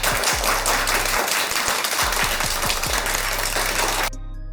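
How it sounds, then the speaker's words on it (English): Dense, steady applause from a crowd, broad and continuous for about four seconds, then cutting off abruptly near the end. "Give her a round of applause."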